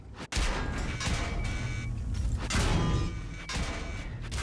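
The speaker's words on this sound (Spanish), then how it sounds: "de frente me cayeron un par de tiros y no los pude rebotar" World of Tanks gameplay with tank shells striking: loud, rumbling blasts and impacts come in a dense, continuous barrage, with sharp bursts near the start and middle.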